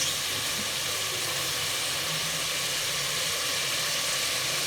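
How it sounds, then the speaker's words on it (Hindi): Large-cut onion hits a hot pan of ginger and garlic for white chicken korma, giving a steady, loud, broad hiss that holds evenly throughout with no voices. "अब इसके अंदर हम प्याज को ऐड कर लेते हैं।"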